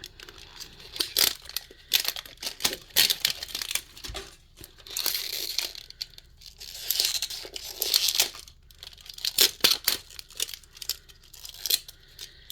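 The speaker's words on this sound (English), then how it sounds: "these little ripping things do not like me. So we'll just rip it." Cardboard and foil packaging of a Harry Potter blind box being ripped open by hand, with bursts of tearing and crinkling in irregular spurts at close range, no talking.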